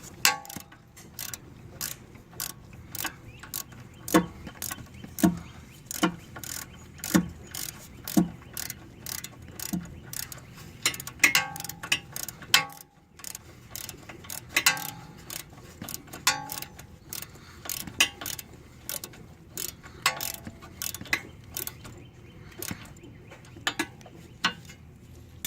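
A ratchet snugs a 12 mm bolt on a Hyundai Sonata brake line, producing rapid bursts of sharp clicking in an irregular rhythm with short pauses, close up and without speech.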